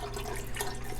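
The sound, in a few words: store-bought broth being poured into a pot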